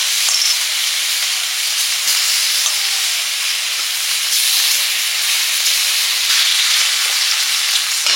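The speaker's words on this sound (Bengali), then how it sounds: "এবার করছি সিম ভাজা, হালকা ভাপিয়ে নিয়েছিলাম নুন হলুদ দিয়ে।" Flat beans, lightly steamed earlier with salt and turmeric, frying in hot oil in a pan, giving a loud, continuous close sizzle and hiss that holds steady from start to finish with no talking.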